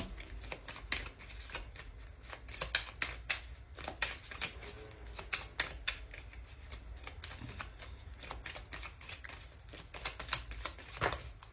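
Oracle cards being shuffled by hand nearby, a long run of rapid riffling flicks and soft slaps in uneven bursts, quiet overall and without speech.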